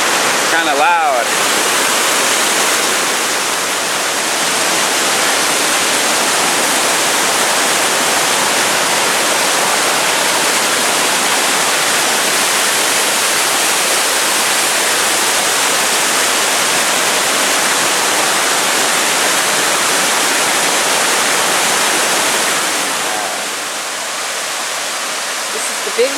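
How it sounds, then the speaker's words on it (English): A big waterfall roars steadily, a dense, loud rush of falling water that stays constant throughout and eases slightly near the end. "Big waterfall."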